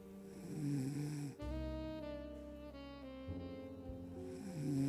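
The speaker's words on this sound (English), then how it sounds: "That's the dog snoring." A dog snoring loudly and close, long rasping rumbles repeating in a slow steady rhythm with no other sounds.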